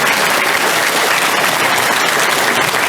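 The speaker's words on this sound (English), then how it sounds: "Round of applause for Robert Fleischer." An audience applauds a speaker at a talk on UFOs in Germany, a dense steady clapping that is loud and sustained throughout, with no speech over it.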